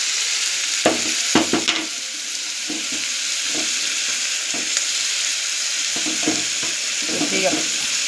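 Onions, green chilies, ginger-garlic paste and turmeric sizzle steadily in a pan, a constant frying hiss broken by repeated scraping stir strokes.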